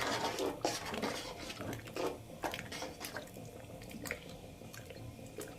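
Sabudana and potato batter being stirred in a cooking pot, with repeated close clinks and scrapes of the spoon against metal mixed with soft, wet squelching.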